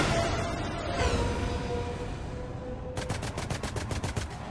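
Gunfire in the video game Mass Effect 3: loud, dense weapon fire, ending in a rapid automatic burst of evenly spaced shots layered over game noise, with no talking.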